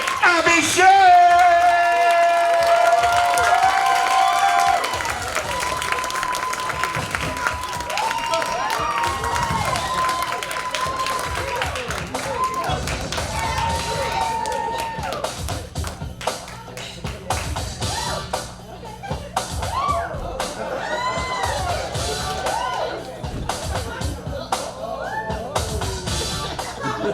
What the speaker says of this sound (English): Put your hands together, start clapping right now for the one and only Abhishek.